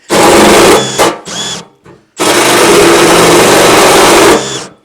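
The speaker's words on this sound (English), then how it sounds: "I think it's actually the drill slipping this time." Power drill wallowing out a bolt hole for a 13mm bolt during crash repair on a Toyota Hilux, a loud high-pitched whine that runs in bursts and cuts out twice, then settles into a long sustained run before stopping.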